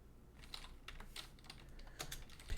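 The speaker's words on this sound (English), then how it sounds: "maybe I can try typing" Keys clatter on a computer keyboard in steady, quick bursts of close clicks during a desktop setup session, with no voices.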